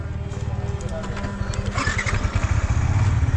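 A new 2024 Yamaha MT15 motorcycle engine runs nearby with a steady low throbbing pulse that grows slightly louder and rougher midway, while people talk over it.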